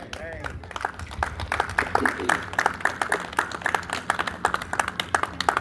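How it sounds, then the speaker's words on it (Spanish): A congregation at an evangelistic campaign service claps loudly in an uneven, fairly brisk rhythm of distinct hand claps, with voices briefly heard among them. "En el nombre de Jesús le damos un fuerte aplauso"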